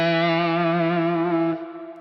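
Distorted electric guitar tone from the single-coil neck pickup of a Fender Squier Bullet HSS Stratocaster, a single sustained note ringing with rich harmonics for about a second and a half before it decays.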